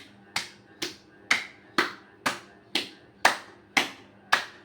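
Single pairs of hands clap in a slow, even rhythm during a tali mudra yoga exercise, nine crisp close claps about half a second apart against a quiet background.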